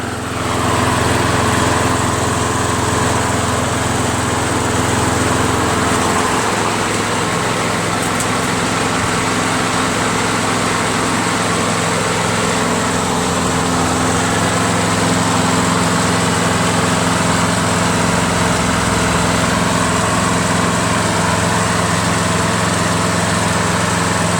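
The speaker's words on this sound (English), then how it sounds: "So I'm just gonna let it run for a little bit, burn off any excess oil that might be in the muffler." Briggs & Stratton Quantum engine on a push lawnmower runs steadily and loudly at a constant throttle, a continuous near drone throughout with no talk.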